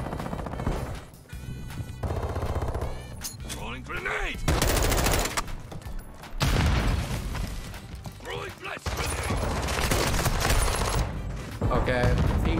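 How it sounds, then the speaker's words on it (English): Rapid automatic gunfire in Call of Duty MW2 on the Vondel Waterfront map comes in loud repeated bursts with crashes and impacts, while a player talks over much of the action. "Why is my gun shooting on its own?"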